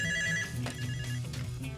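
Telephone ringing with a bright, sustained electronic ring tone that lasts through the short moment, moderately loud with a faint background hum.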